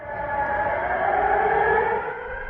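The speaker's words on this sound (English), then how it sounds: "Interrupted from time to time by sirens and a recorded voice." An air raid siren sounds over Odessa, Ukraine, a steady moderately loud wailing tone with layered harmonics, heard alone and slightly distant for a couple of seconds.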